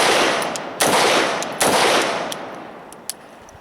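A Smith and Wesson M&P Tactical AR-15 rifle fired outdoors, with about four loud, sharp single shots spaced under a second apart, each followed by a decaying echo and a quieter pop near the end.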